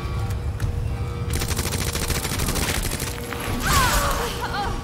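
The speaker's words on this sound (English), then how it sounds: "Let's start shooting him." Rapid bursts of gunfire from the Resident Evil 2 video game on PC ring out in quick repeated shots, with mechanical clicks and a sharp screech near the end.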